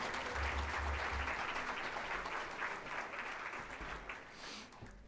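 An audience at a Hispanic Heritage community breakfast gives a keynote speaker a sustained round of applause. The clapping is steady and fairly close, then eases off slightly toward the end.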